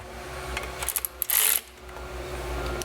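A small power tool driving bolts in at a low 8 newton-metre setting on a Ford Falcon, with a couple of short motor whirs and one louder, harsher burst of about a third of a second over a quiet background.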